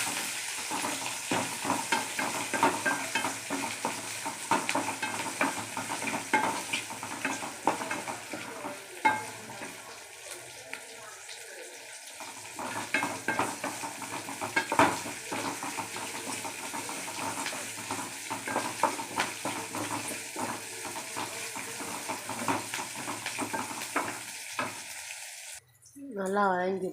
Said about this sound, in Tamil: சின்ன வெங்காயம், நல்லா வதக்கிக்கலாம்.